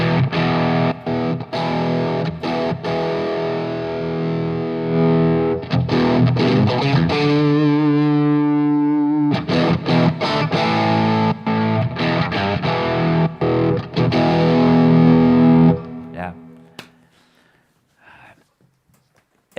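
Distorted electric guitar through a tube amp head plays loud chords and riffs with a thick, saturated amp tone, pausing briefly on a sustained note before fading out at the end.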